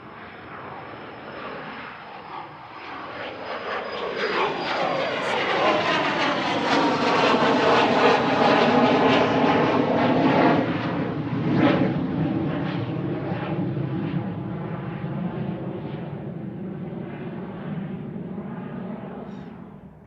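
A UPS Boeing 747 passing overhead near Manchester Airport, its jet roar swelling from faint to loud, peaking midway, then fading away, with a clear pass-by sweep and no talking.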